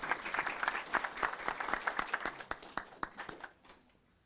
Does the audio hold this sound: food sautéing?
no